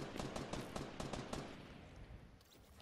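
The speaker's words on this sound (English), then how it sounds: "There's shotgun shots around here" Rapid shotgun blasts in the Fortnite video game, a fast run of sharp repeated shots for about a second and a half, then fading into quieter ambience.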